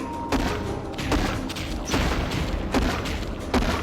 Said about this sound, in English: you want to shoot down the balloons as well